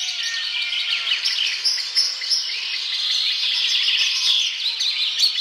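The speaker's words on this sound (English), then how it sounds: "The dawn chorus, all blowing away together." A dawn chorus of many birds sings at once in a dense, continuous wash of bright chirps and trills, steady and moderately loud with no voices.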